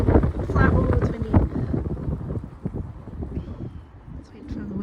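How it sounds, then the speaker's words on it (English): Gusty wind buffets the microphone in a perennial vegetable garden, a loud low rumble rising and easing, with a person speaking over it at times. "Let's wait for the wind to stop"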